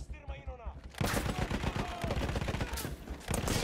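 Gunfire in the World War I shooter game Battlefield 1, with a quiet lead-in and then rapid bursts of shots that hammer on steadily, loud and close, with several sharper cracks near the end.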